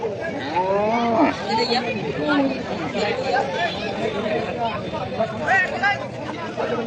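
Cattle low repeatedly amid a busy cattle market, their moos rising over constant chatter and nearby voices.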